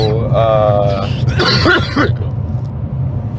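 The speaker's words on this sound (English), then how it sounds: "I've coughed into the microphone." A cough lands right into a microphone inside a car, a harsh close burst following a man's spoken words, with low engine rumble underneath throughout.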